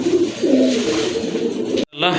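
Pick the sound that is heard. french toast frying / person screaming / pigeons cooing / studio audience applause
pigeons cooing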